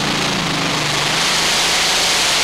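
Roaring engine of the Bull Power pulling tractor with bent exhaust stacks at a European tractor pulling event in Herning, Denmark, a loud, dense, sustained blast of engine noise with a faint underlying drone.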